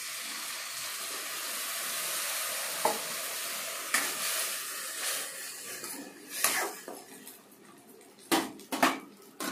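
Tender tamarind leaves frying in oil in a pan give a steady close sizzle, then water is poured in, followed by sharp bursts of spattering and clattering utensil stirs.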